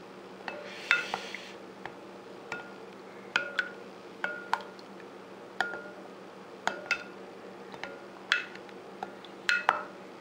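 A utensil clinks repeatedly against a bowl or glass while food dye is stirred into homemade fake blood, the sharp taps coming in an uneven rhythm over a quiet background with no talking.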